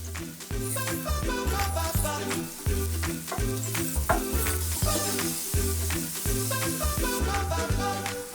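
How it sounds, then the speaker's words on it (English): Mushrooms browning in a hot pan, giving a steady, bright sizzle and crackle that runs throughout, heard under rhythmic background music with a repeating bass beat. "what I want is for the mushrooms to start to brown and release some of their liquid"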